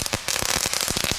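A Thunderking firecracker going off up close, a loud, rapid string of sharp cracks and pops that rattle on in an irregular burst with no talking over them.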